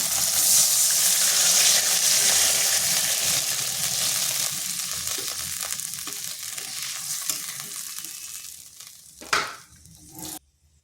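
Water poured into a hot pan of frying katla fish curry, a loud hissing sizzle that gradually settles into a softer simmer, with a few clinks of a utensil near the end.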